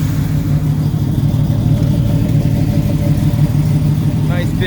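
A 1972 Chevrolet C10 stepside pickup with a 383 stroker V8 and a Holley 650 double-pumper carburetor runs with a steady, loud, lumpy rumble, close by and without voices.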